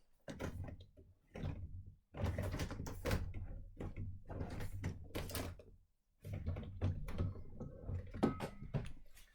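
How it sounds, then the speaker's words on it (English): Small mini drawers holding scrapbooking embellishments slide open and shut in a craft space, giving several close, clattering bursts of drawer movement and rummaging with short pauses between them. "dive into my mini drawers"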